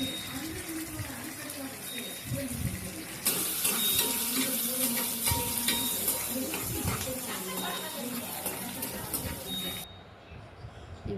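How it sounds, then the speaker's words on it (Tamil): Coriander and curry leaves sautéing in a pan for capsicum chutney give a steady, wet sizzle that runs throughout and swells louder midway, with talking over it. "அப்புறம் கொத்தமல்லி, கருவேப்பிலை அதையும் போட்டுக்கணும். போட்டு அதையும் வதக்கி எடுத்துக்கணும்."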